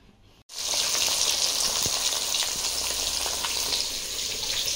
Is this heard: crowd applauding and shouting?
no